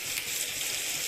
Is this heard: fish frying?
yes